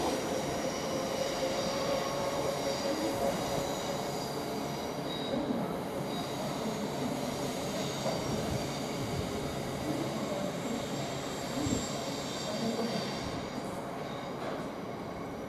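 Class 390 unit 390138 descends the hill past Nuneaton station on the West Coast Main Line, its wheels squealing and rumbling in a loud, steady roar with tonal whine that holds throughout before easing slightly at the end.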